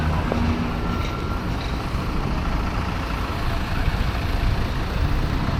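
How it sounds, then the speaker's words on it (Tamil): Street traffic near the Eiffel Tower in Paris: a continuous, fairly loud rumble of passing trucks and buses with an air-brake hiss and some wind, and no voices. "இந்த ஊரில் டிராஃபிக் ஆனாலும் பாருங்களேன்"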